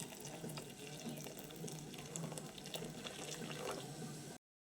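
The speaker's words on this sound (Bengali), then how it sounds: "এবার আমি এর মধ্যে দিয়ে দিচ্ছি ফুটন্ত গরম জল" Boiling hot water pours into a bowl of soybeans in one continuous close gushing stream, steady and fairly loud before cutting off abruptly.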